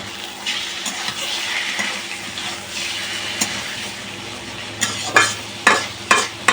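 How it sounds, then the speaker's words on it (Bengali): Chicken with pointed gourd fries slowly in oil, giving a continuous close sizzle with stirring scrapes and sharper clatters of the spoon against the pot toward the end, no speech. "এখন শুধু এটা তেলে ধীরে ধীরে ভেজে নিব।"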